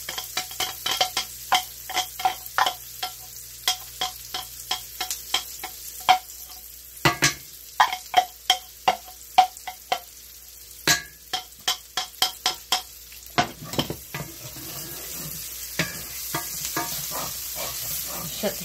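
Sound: garlic frying in a pan

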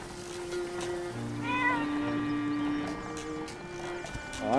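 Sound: cat meowing in the video game Zelda: Echoes of Wisdom

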